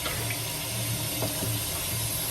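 Cyanotype prints of different exposures being laid into running rinse water, a steady broad splashing flow that continues evenly from start to finish with no voices.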